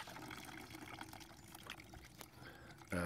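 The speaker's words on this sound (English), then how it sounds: "I'm actually filtering this water each time I put it through, catching loads of rust" Water sloshing and pouring through a rusty motorcycle fuel tank and a filter during rust removal, a steady, faint liquid rush with a louder thump at the very end.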